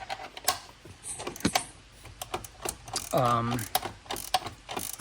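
Hand ratchet clicking as it turns out a seatbelt mounting bolt on a 2007 Aston Martin Vantage Roadster, giving a quick run of sharp close clicks with a brief rustle and a tonal squeak partway through.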